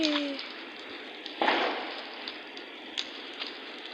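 Firecrackers and TNT going off in Minecraft gameplay: a sharp burst near the middle of the clip, followed by smaller pops and crackles over a steady hiss. A few faint tones sound at the start.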